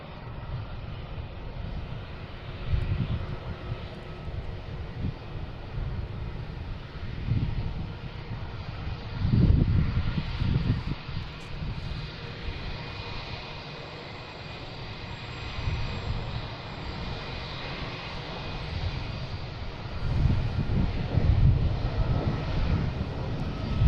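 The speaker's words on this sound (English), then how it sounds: "American taking off here on 3-3" A jet airliner rolls and climbs away from runway 33 at Boston Logan, a steady broadband engine roar at moderate distance with swelling low rumble and wind buffeting, no voices.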